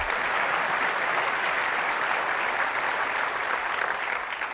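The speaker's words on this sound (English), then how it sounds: "You can clap, it's okay." Steady applause from a large audience at Apple's WWDC 2008 keynote, a dense wash of clapping at an even level for several seconds with no pauses.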